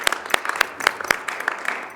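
Congregation applause at a Sunday church service: a short burst of scattered hand clapping from a modest crowd, sharp irregular claps rising and fading over two seconds with no talk.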